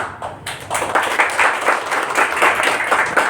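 Audience at a conference talk applauding, a burst of many hands clapping fairly close and steady for a few seconds after a brief pause.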